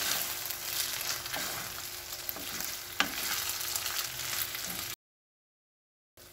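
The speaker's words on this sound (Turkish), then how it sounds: "İyi karıştırıyorum" A glass of water with spices is stirred in a pot, giving a close, steady scraping swish with a few light clicks of the utensil, then a sudden cut to silence near the end, with no talking.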